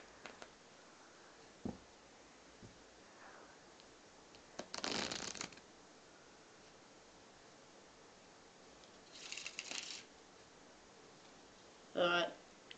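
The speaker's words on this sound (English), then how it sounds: "I'm going to teach you the ruffle shuffle." Playing cards being ruffle shuffled, heard as three short separate bursts of crisp riffling, each lasting about a second, with a faint tap or two between them and no talking.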